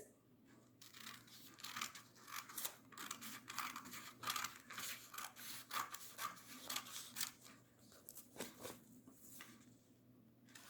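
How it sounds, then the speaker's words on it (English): Scissors snip through rectangular paper strips, cut for rolling paper beads, in a series of close, uneven crisp rubbing cuts that come in quick bursts and stand alone without talk. "Cut rectangular strips like this."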